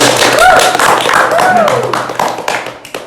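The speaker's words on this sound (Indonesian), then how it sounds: "tepuk tangan dulu" Hand clapping in an Indonesian podcast studio, a quick burst of claps from a few people with voices talking and exclaiming over it.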